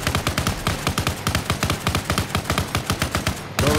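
A vehicle gunner in the Arma video game fires at a roadblock, sending out a loud, rapid, steady burst of automatic gunfire that runs almost without a break and then cuts off sharply near the end.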